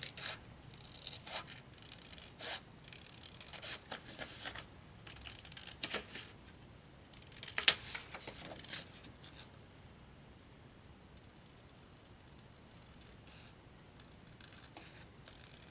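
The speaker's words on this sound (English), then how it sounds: "Okay, I'm really bad at cutting," Scissors snipping paper for a file folder journal, a run of quiet, close, irregular cuts with rustling, busier early on and fading to sparse snips later.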